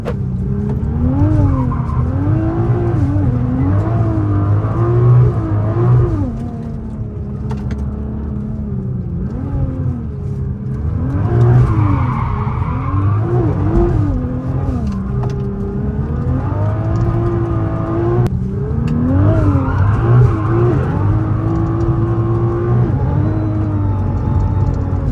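A 900 hp rear-wheel-drive Nissan R35 GT-R drifting on a mountain road, its engine droning loud and continuous with wavering revs and tire squeal throughout, no talk.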